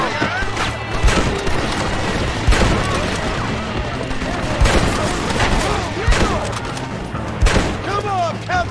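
Repeated gunfire in Red Dead Redemption, with sharp bursts and booming thuds scattered through a dense, loud battle din, while voices shout over the shooting.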